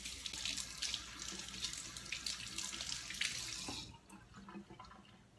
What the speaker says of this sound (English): So now I'm going to go wash my hands